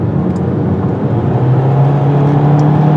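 Turbocharged engine of a 2018 Hyundai Kona with a 7-speed dual-clutch transmission, pulling steadily up a mountain road toward 6,000 feet; a continuous, even drone with road noise, heard from inside the cabin, no voices.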